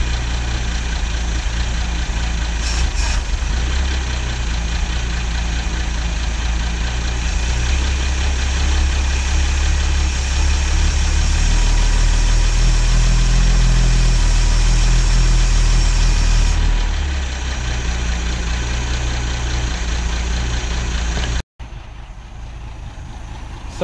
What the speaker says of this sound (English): So it's sitting there and idling, but it's really, really unhappy when I try and open the throttle.